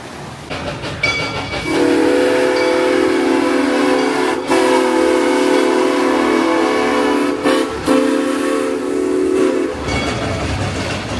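A loud steady hiss with whistle-like tones runs for several seconds, broken by a few sharp clanks, like a small ride train letting off steam nearby.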